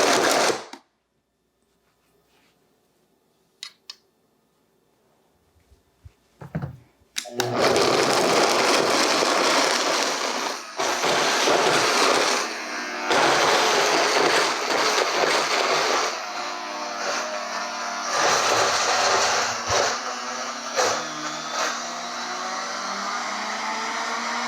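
A food processor pulses an energy bomb mixture. Near-silence with a few faint bumps gives way to a loud grinding motor that runs in bursts, dipping briefly between pulses, harsh and close.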